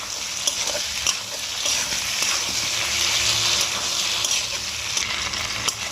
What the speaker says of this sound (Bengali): এবার আমি এর মধ্যে আদা রসুন বাটাটা দিয়ে দেবো দিয়ে ভালো করে কষিয়ে নেব আলুটার সাথে